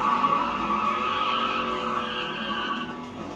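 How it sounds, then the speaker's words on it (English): A drag-racing Smart car does a line-lock burnout, its front brake held while the rear tires spin, giving a loud, sustained tire squeal over engine roar that fades slightly toward the end. "Pull the line lock button and that'll hold the front brake so you can do a good burnout."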